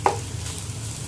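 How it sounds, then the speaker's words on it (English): Tuna hits a hot pan of pasta sauce with a quick sizzle and stir, a brief close clatter at the start followed by a soft steady frying hiss. "Make some space for the tuna, then add the tuna."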